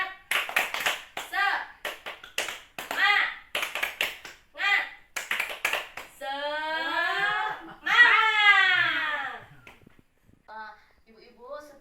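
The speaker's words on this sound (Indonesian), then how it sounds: "1, 2, 3, tepuk semangat." A group of women performing a rhythmic spirit clap at a family development session, sharp patterned bursts of hand claps interspersed with chanted voices, followed by laughter and cheering.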